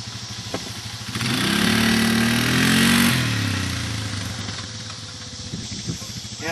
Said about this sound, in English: Now we're on a four-wheeler.